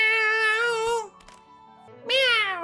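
A man imitates a cat with his voice, giving two drawn-out, tonal meows separated by a short pause, close and clear.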